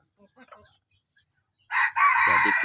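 Free-range village chickens at feeding time: faint scattered clucks, then a loud, close rooster crow that rings out alone.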